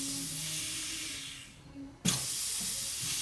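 Compressed air puffed into the turbo wastegate actuator of a Land Rover Defender TD5 gives a steady airy hiss, then one sharp, loud burst of air at close range.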